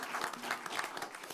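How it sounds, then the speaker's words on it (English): Applause at a school board of trustees meeting, congratulating the district's state-title-winning band: a steady wash of clapping from a seated room, moderately close, with faint voices mixed in. "Another round of applause for them."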